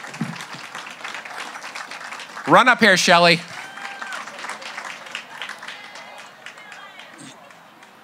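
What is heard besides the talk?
audience applauding and cheering for an award recipient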